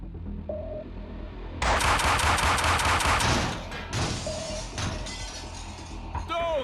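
Rapid gunshots in a Max Payne 2 cutscene, a loud dense volley of shots with shattering impacts, then scattered single shots and clatter as the burst dies down.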